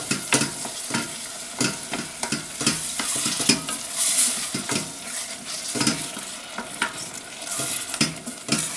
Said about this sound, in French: Je vais ajouter mes tomates pelées que je vais écraser grossièrement.